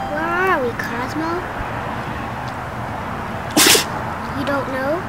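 A single sharp sneeze bursts out close and loud partway through, set against steady background hum and brief voiced talk before and after.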